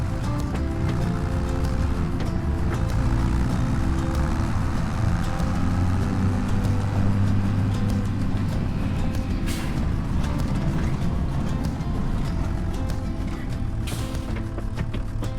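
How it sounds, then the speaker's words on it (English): Steady low engine drone of a John Deere tractor being driven in Farming Simulator 25, continuous and fairly loud throughout with rumbling low tones and no speech. "So I hop into the tractor, hook it up, and drive it over"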